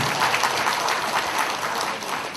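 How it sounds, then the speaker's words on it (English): An audience at a mock interview session for biomedical engineers claps in dense, steady applause, loud and sustained for a couple of seconds with no talk over it. "Give them a big round of applause."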